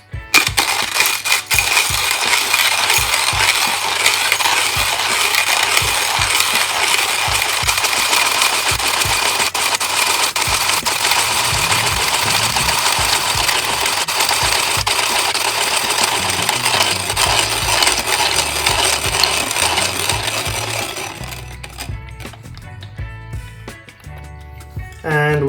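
A Timemore C2 hand grinder crunches coffee beans in a loud, continuous rasp up close. The grinding runs steadily for about twenty seconds, then thins out as the beans finish and ends with a few light clicks.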